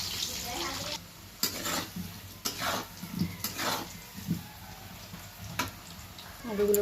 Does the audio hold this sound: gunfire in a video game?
no